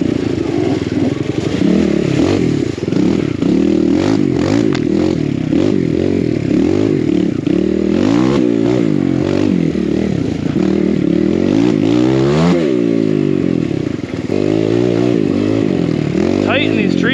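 A Kawasaki KLX 170 dirt bike rides through tight wooded trail, its engine loud and close, revving up and down continuously as it negotiates turns, with occasional clatter.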